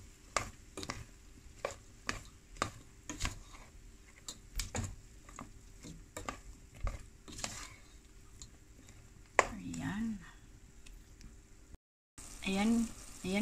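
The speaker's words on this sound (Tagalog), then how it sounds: "kumukulo na siya" Chicken adobo sauce made with Sprite bubbling and sizzling in a pan, with scattered popping ticks, and a voice speaking briefly near the end.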